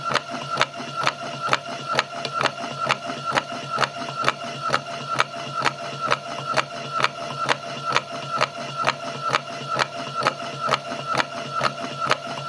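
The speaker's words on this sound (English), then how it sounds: "The sound that you can hear is the motor assembly rattling when the transmission control unit comes into contact with the rough section of the belt." A fixed belt drive transmission's motor assembly rattles in a regular, rapid series of sharp ticks and clatters, repeating evenly at close range with no talking.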